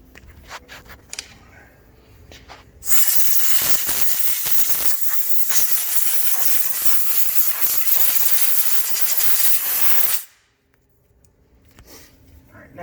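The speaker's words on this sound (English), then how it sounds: "little air compressor, air gun, and just blow that off of there." Compressed air from a small compressor's air gun blasts dirt off the grooves of a Kawasaki ATV axle during brake pad and rotor work: one loud, steady hiss of about seven seconds that starts and cuts off abruptly, with quiet room sound before and after.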